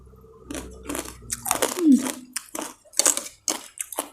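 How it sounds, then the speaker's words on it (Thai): Close, loud crunchy chewing of noodles with crispy pork cracklings, a rapid series of crisp bites and chomps with brief pauses, and a voice heard faintly between them. "มันจะมีแคบหมูมันจะมีเส้นมันก็จะเคี้ยวแบบ จับจับจับจับเสียงดังเงี้ย"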